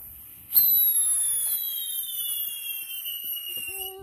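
A firework rises with a loud, sharp whistling shriek that slowly falls in pitch and holds for several seconds, close and prominent; a brief tone appears near the end.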